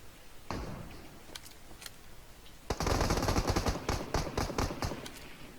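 Gunfire in the PUBG Mobile game: an isolated shot, a few scattered cracks, then a rapid automatic burst of repeated sharp reports, moderately loud against quiet background.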